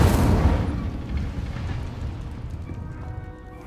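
An Incendio fire spell from Hogwarts Legacy bursts out with a loud, whooshing blast at the start, then trails off into a lower, rumbling roar that fades steadily over a few seconds, with no talking.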